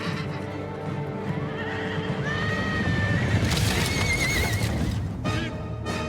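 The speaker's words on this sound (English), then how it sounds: "Shoot the horses!" In Ghost of Tsushima, horses neigh and whinny loudly over clattering hooves and battle din, with a shrill, rising whinny in the middle and another sharp one near the end.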